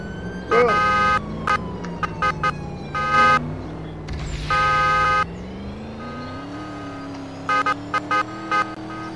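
A Lamborghini police car in a drifting video game blares its siren in loud, choppy bursts over a rising engine drone, with intermittent gaps between the wails.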